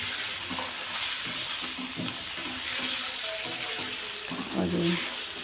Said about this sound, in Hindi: लहसुन को, अदरक को और चिकन को एक साथ ही हमने भून लेना है